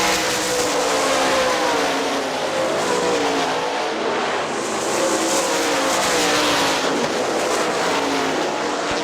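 Sprint race cars at Hartford Speedway roar past in a continuous, loud wash of engine noise, rising and falling slightly as the pack circles the track, with no talk over it.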